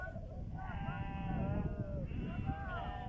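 Sheep bleat repeatedly in overlapping calls, fairly close, at a highland summer pasture, over a constant background rumble and murmur.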